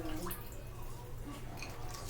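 Water dripping and trickling while raw chicken is washed in a kitchen, light irregular splashes over a low steady background.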